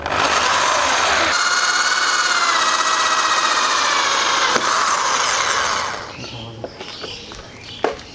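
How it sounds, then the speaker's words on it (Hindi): A power drill fitted with a 3.5 mm bit bores a hole in the handlebar of a Honda Dio scooter, a loud steady whine lasting several seconds before it stops, followed by quieter handling noises. "तो चलिए ये साइड भी हम लोग ड्रिल कर लेते हैं।"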